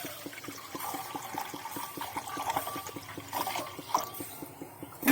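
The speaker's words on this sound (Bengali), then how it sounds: "জল আমি দিয়ে দেবো" Water running and splashing steadily into a pot for pumpkin murabba, a close, continuous gurgling pour with faint rhythmic tapping underneath.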